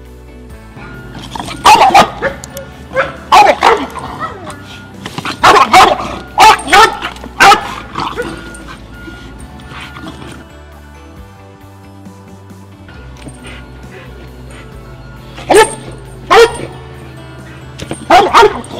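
An American Bulldog barks in loud, close bursts during a bite test, with clusters of sharp barks and whimpers separated by quieter gaps.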